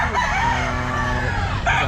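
A sweater gamefowl rooster crows loudly and close at a crowded outdoor pet market, one sustained drawn-out crow over steady background crowd noise.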